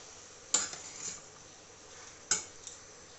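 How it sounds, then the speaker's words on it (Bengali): A spoon stirs grated ginger into a pan of mixed vegetable curry, giving two sharp clinks against the pan with soft scraping between them, close and fairly quiet, with no talking. "চলো ভালো করে মিশিয়ে নিই আর কি।"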